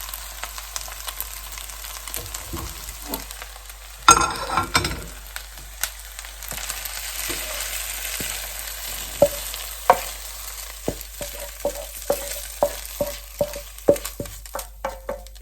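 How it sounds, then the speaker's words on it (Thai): Fresh wide rice noodles are stir-fried in a pan for pad see ew with egg, producing a continuous sizzle broken by repeated scraping and clinking spatula strokes, one loud burst near the start, and no voices. "ผัดแป๊บเดียวก็ได้ทานแล้วนะคะ"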